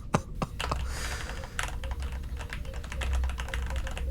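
Rapid keystrokes on a computer keyboard patter along steadily at close range, with a few sharper clacks at the start and a faint low hum beneath the continuous typing.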